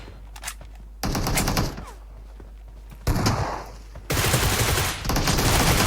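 Bursts of Groza assault rifle fire in a PUBG Mobile arena match crackle in loud rapid volleys. They alternate with quieter gaps holding scattered shots and thumps.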